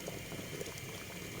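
A tamarind salan curry simmers in a pot, giving a faint, steady bubbling that runs evenly through the moment with no voices.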